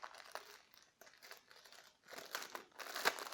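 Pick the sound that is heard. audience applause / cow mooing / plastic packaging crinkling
plastic packaging crinkling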